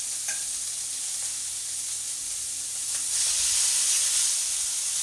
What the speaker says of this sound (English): Alright, so now it's heated up, I think, pretty well. Let's see about searing these.